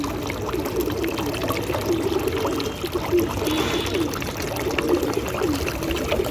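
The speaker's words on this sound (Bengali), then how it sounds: "দেখুন গুড়ের জলটা দিচ্ছি" Jaggery water poured out for pigeons, a steady close trickle and stream of liquid that runs continuously, fairly loud.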